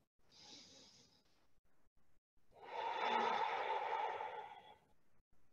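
Soft yoga breathing with a short inhale followed by a longer, fuller exhale, close and quiet.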